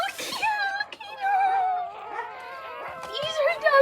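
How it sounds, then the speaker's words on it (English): Young puppies whimper and yip close by, a string of high, wavering whines and squeaks that rise and fall in pitch and overlap one another, with a few soft knocks in the background. "These are Daddy's puppies."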